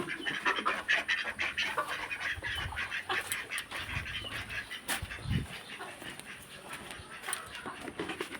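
Domestic ducks honk and quack in a busy farmyard where they are being fed flour with water, with goats and cows nearby; repeated calls overlap steadily against a noisy outdoor background.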